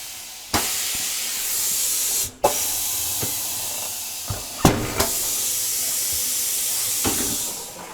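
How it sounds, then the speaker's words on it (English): Air hissing in loud, sustained bursts as the tire bead is broken on a 2014 EZGO Express S4 gas golf cart wheel, with brief sharp clanks and short gaps between the blasts. "Then we're going to break the bead."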